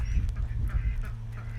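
Ducks quack on a rainy day: several soft, nasal honks repeat under the steady hiss of rain and a low background rumble, heard at moderate distance.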